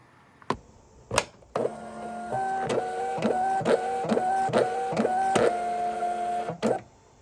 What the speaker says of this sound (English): let's get some paper loaded up in our label printer